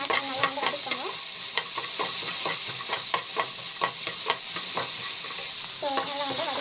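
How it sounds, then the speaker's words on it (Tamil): Chillies with salt sauté in a pan, a loud steady sizzle broken by rapid rhythmic scrapes and clinks of a spoon stirring against the metal, close and continuous with no voices. "ஆட் பண்ணி நல்லா வந்து வதக்கிக்கோங்க."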